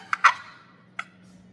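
A mouth-free friction turkey call, played with a striker, gives a few short, sharp clucks: a quick pair, then a single one a moment later. They sound close, fairly faint and clear, with no voice over them.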